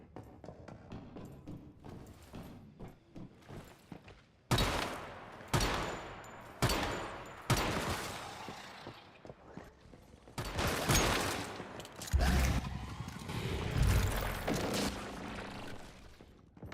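Submachine gun fire from a video game crackles in several loud bursts of rapid shots, separated by brief pauses, with clattering sounds between.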